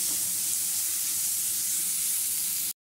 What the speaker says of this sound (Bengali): সেই পেঁয়াজটা আমি দিয়ে নিচ্ছি দিয়ে এই পেঁয়াজটা আমি লাল করে ভেজে নেব